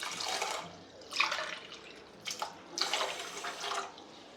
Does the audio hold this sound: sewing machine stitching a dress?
no